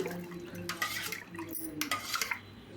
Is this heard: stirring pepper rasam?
yes